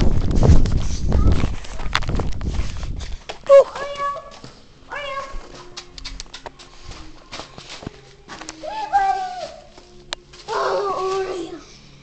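After a loud rustling stretch, horses at close range give several nickering and whinnying calls spread across the passage, between quiet gaps with faint hoof or footstep sounds.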